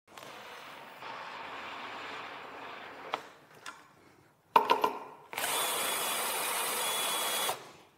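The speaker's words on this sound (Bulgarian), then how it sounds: "с помощта на акумулаторната бормашина да коригирам винта и дървото" Cordless drill adjusting a fischer FAFS leveling screw in wood, with a steady motor whir, a brief pause broken by a few sharp clicks, then a louder sustained run of drilling, close up and without voices.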